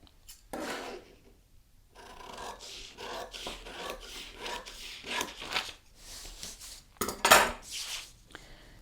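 Scissors cut fabric for a sewing pattern on a tabletop, giving a series of close, crisp snipping and sliding strokes in irregular bursts, with one sharper, louder cut near the end.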